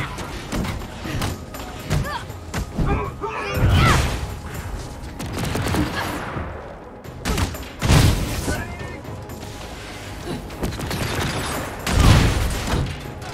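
Turret gunfire and explosions in the Marvel's Avengers video game, repeated heavy thuds and crackling bursts in a dense action mix, loud, with occasional talking over it.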